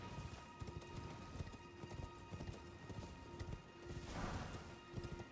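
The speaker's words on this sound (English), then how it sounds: "Yeah, it's a guy on a horse again." Steady clip-clop of a ridden horse's hooves in the video game Elden Ring, a rhythmic run of close, fairly loud footfalls with a brief rushing swell near the end and no talking.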